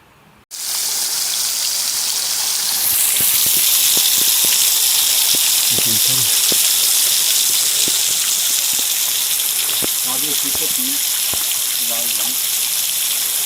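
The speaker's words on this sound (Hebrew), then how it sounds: "יש כאן מים שזולגים." Water trickling and streaming down an algae-covered rock face in the Wutach gorge in Germany's Black Forest, a loud continuous splashing rush close by with scattered drips and brief knocks over it.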